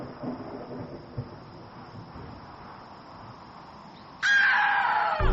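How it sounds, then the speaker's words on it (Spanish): Distant thunder rumbles low and steady beneath wind and rain ahead of an approaching storm, with a louder burst of harsher noise near the end. "los truenos que comenzaban a escucharse en la lejanía"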